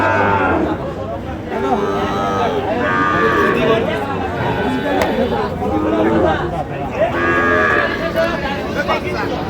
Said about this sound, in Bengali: গরুগুলো দেখছেন।